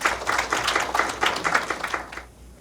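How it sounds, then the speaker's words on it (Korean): An education policy forum audience claps to welcome a speaker, a lively burst of many hands in uneven rhythm that fades out over nearly three seconds. "큰 박수로 모시겠습니다."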